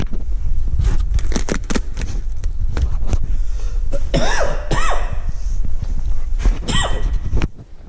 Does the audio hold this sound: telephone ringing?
no